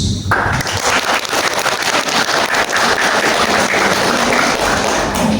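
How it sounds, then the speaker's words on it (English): Sustained, dense applause from a seated audience welcoming a guest speaker at a peace talks event, steady and fairly loud throughout with no break. "Please give him a very good round of applause."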